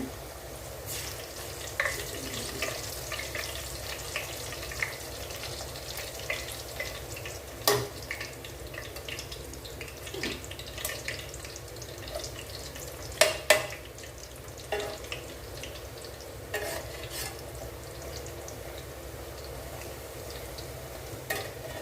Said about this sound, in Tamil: இப்போ நல்லா எண்ணெய் காஞ்செடுத்து அடுத்த பூரி போட்டு காமிக்கணும்